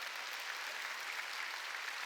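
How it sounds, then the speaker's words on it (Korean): A church congregation at a Sunday worship service applauds in a steady, even burst of clapping, heard at moderate distance with no voices over it. "깨달은 사람만 박수 치라고요."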